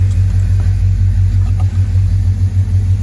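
A Chevrolet Monte Carlo engine idles loud and close, a steady deep rumble with slight rhythmic pulsing and no talking.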